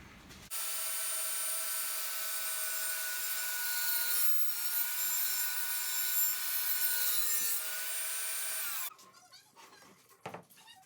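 Table saw blade ripping a chamfer along the side of a wooden board, a steady loud whining cut lasting about eight seconds before the motor cuts off and winds down, followed by a few soft clunks.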